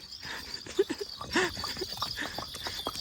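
A mare carrying a rider walks along with soft, uneven hoof clip-clops at a moderate distance, a faint steady hiss in the background.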